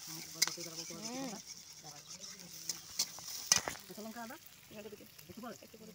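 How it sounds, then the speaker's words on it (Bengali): Chopped onions fry quietly in a pan with a soft sizzle and occasional clinks of stirring, while a person talks over the top. "কুচিয়ে রাখা পেঁয়াজ দিয়ে দিলাম। দেওয়ার পর একটু ভালো করে নেড়ে নেব।"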